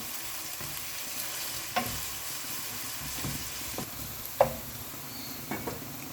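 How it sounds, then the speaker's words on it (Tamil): Curry leaves sauté in oil in a pan for seeraga samba chicken biryani, making a low steady sizzle with occasional stirring scrapes and light taps. "கருவேப்பிலை, வதங்கட்டும்."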